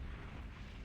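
Booming rumble of anti-aircraft gunfire explosions in World of Warcraft, a dense low-heavy blast that stays loud and continuous for under a second with no gaps or voices.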